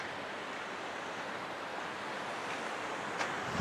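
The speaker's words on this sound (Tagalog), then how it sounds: "May magandang agos ng ilog sa baba." A river current flows far below a high bridge near Nasugbu, Batangas, a faint, steady broadband rush of water blended with some wind noise, with no voices.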